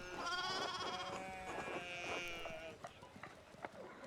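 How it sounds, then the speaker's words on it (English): Sheep in the medieval video game Pentiment bleat in several overlapping, wavering calls, fairly close and clear, trailing off into quieter scattered sounds. "we need to get the sheep here under control"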